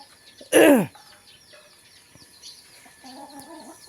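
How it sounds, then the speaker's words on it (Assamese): Chickens peck at rice scattered in a village yard, one loud close squawking call followed by softer clucks and bird chirps, then a short low cluck near the end. "এইয়া কুকুৰা চাউল ছটিয়াইছে, খাইছে।"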